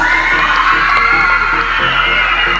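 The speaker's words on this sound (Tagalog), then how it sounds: "Wala po bang masigaw ng palakpakan dyan?" Loud, sustained crowd cheering and shouting with high-pitched whoops and applause at a Miss Gay pageant in Antipolo Hills, a dense, continuous roar filling the whole stretch without a break.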